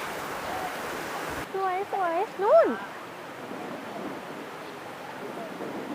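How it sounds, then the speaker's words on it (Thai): River water flows through Lijiang old town with a steady, even rush that fills the whole clip, while a few brief voices speak over it midway. "อากาศก็เย็นเราได้ยินเสียงน้ำแบบนี้อยู่"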